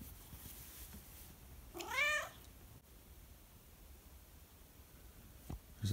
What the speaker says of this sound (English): There's a black cat out there.